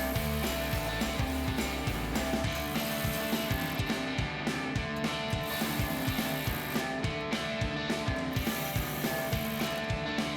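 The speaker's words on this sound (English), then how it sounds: "grab your 10mm socket to tighten them all down" A ratchet wrench with a 10mm socket tightening bolts while installing a modular steel front bumper with skid plate on a 2007-2013 Chevrolet Silverado 1500, a steady run of rapid clicking pawl ticks, close and continuous.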